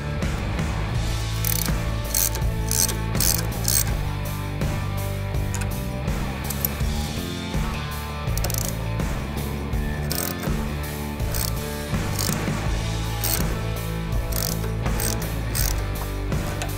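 A ratchet clicks rapidly and steadily up close as it backs screws out of the fuel tank on an Indian Challenger motorcycle, a continuous metallic pawl chatter with no talking.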